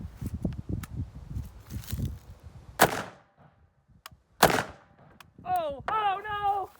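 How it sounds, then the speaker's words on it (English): A Sig MCX rifle in 300 AAC Blackout fired into ballistic gel: two loud, sharp, close reports a couple of seconds apart, with rustling and handling before them and voices reacting afterward. "So let's just shoot this a couple more times because it's fun"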